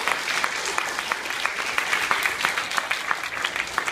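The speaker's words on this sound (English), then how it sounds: "please give them another round of applause for all their hard work" Audience at a school play giving a steady round of applause, many hands clapping densely and evenly throughout at a moderate distance.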